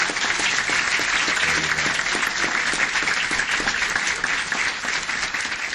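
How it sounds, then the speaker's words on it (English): An indoor audience at a city council meeting gives a sustained round of applause, dense steady clapping from many hands that fills the room evenly from start to end. "So let's give her a big round of applause."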